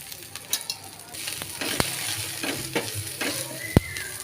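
Green chillies and garlic cloves sauté in a pan for a Maharashtrian thecha, giving a steady near sizzle with scattered stirring scrapes and a few sharp clicks of a spatula against the pan.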